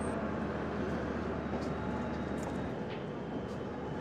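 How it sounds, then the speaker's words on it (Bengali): Kanniyakumari SF Express train rolling out of Howrah station, a faint steady rumble and rattle of carriages with broadband rail noise throughout and no speech. "ট্রেন ছেড়েছে হাওড়া স্টেশন থেকে"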